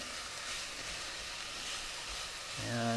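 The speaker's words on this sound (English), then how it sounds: "And you can hear it sizzling." Steady broadband hiss of vegetables frying in a pan, continuous and close, with a faint hum rising near the end.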